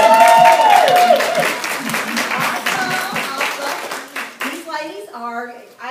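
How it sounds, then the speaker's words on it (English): Audience applause at a hostess sales event fills the room with dense, steady clapping, and a voice speaks over it near the start before the clapping thins out toward the end. "Let's give you a round of applause."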